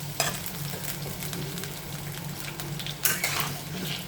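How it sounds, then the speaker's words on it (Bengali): Potatoes fry in oil in a pan, with a low continuous sizzle and a hum underneath, punctuated by a few sharper clinks and scrapes of a spatula moving them around. "আলু ভেজে নিচ্ছি।"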